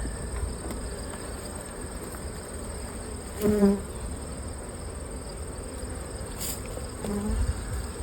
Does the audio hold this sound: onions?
no